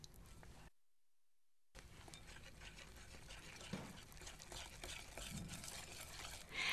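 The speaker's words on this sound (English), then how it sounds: "Stir with a whisk until smooth" A whisk stirs melted baker's chocolate and butter with soft, continuous wet swishing and scraping. It is quiet and near, broken by a brief silent gap early on, and swells slightly at the end.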